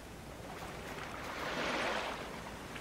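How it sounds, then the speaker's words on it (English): Ocean waves wash steadily in the video game Planet Explorers, a broad, soft hiss that swells near the middle of the clip and then eases back. No one speaks over it. "Lovely ocean sounds."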